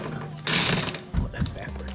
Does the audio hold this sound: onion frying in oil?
no